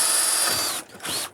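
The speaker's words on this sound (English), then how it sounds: "Now, I'll just need to drill a hole here." A cordless battery drill whirs through a hole during slate roofing work, a steady high whine that dips briefly mid-burst and then resumes, close and loud with no voices.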